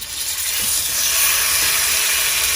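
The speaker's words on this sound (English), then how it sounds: "You hear that sizzling? That's what you wanna hear every time when you make a steak." Steak searing in a hot skillet gives a loud, continuous broadband sizzle that holds steady throughout with no talk.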